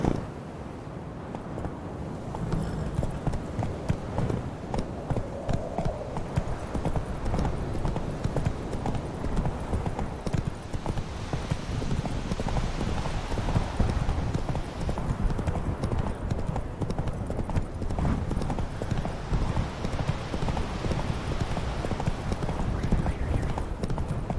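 Horse hooves clip-clop steadily at close range in the video game The Witcher 3: Blood and Wine, an even trotting rhythm that continues throughout the scene.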